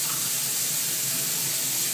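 Water runs from a tap into a glass in a steady, close, continuous hiss with no talking.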